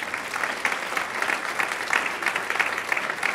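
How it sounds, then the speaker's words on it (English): A banquet crowd at an adult bowling association dinner claps steadily in honour of a long-serving league member, a dense, even patter that carries on at moderate loudness. "let's give her a round of applause."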